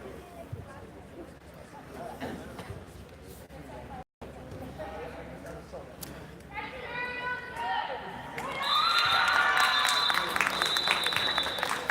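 Crowd cheering for Maryville at a college quidditch match between Maryville and Creighton, a steady broad roar that swells louder toward the end, with whistles and voices mixed in.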